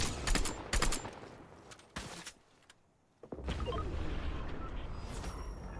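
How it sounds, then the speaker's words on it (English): Gunfire aimed at a car to blow it up in Fortnite: several sharp bursts of shots in the first two seconds, a brief quiet, then a sustained loud roar, likely the explosion. "I'm gonna blow this car up and then hope that they fight"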